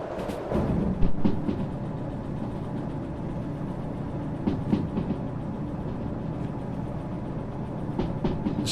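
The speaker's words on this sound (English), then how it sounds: "I'm driving a train right now." A train runs steadily in a train simulator video game, a continuous rumbling engine and rolling noise with occasional faint clicks and knocks, even and moderately loud throughout with no talking.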